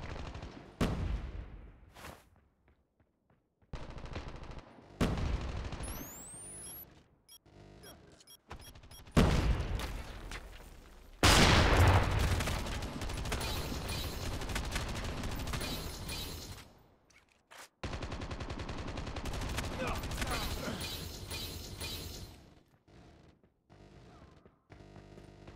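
Rapid automatic gunfire from a deployed sentry gun in the mobile shooter Call of Duty Legends of War, sustained bursts mixed with other weapon shots and booms, loud and close, with brief pauses between volleys.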